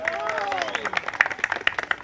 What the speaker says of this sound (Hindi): पहले तो इनके लिए सब लोग ताली बजाइए।